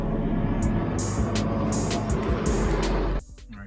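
A twin-turbo 1998 GMC C1500 pickup engine runs with a loud, rough, steady rumble close by, then cuts off abruptly near the end, leaving quieter background.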